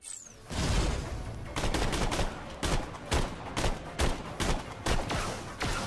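Loud rifle shots in Borderlands: The Pre-Sequel fire one after another in a steady, evenly spaced rhythm, each crack sharp and close.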